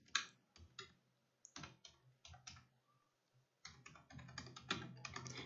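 Keys clatter on a computer keyboard in quick, uneven bursts with short pauses between them while HTML text is being entered, close and crisp, and no one speaks.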